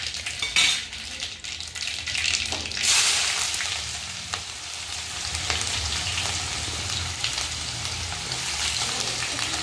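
Finely chopped onion frying in hot oil with cumin, a steady close sizzle with a few utensil scrapes and clinks over it.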